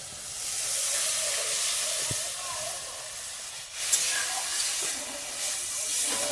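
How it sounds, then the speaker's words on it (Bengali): Hissing, steaming sizzle as water goes into a pan of fried tomato-and-spice masala for a pomfret fish curry, a steady hot spray of noise with a sharper surge near the middle. "এই যে মশলাটা এখন জলটা এই ভিতরে দিয়ে দেবে"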